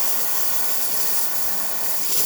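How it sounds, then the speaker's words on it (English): Steam roars loud and continuous from the steam wand of a freshly serviced Anza espresso machine, a dense, steady hiss with no voices. "very strong steam"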